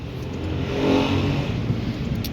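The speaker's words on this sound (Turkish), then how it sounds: "Bu arada arkadaşlar araba sesi falan duyabilirsiniz." A car passes outside, a steady broad engine and tyre rush that swells toward the middle and then holds, heard alone with no talk.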